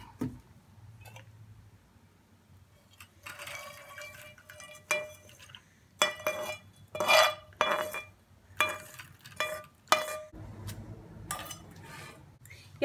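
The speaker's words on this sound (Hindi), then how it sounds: "अब मैं इसे छान लूँगी।" Cooked orange peels strained out of oil in a home kitchen for a DIY facial oil: dripping liquid and clinking of a metal strainer and pot, soft at first, then a run of sharper clatters and taps, heard alone.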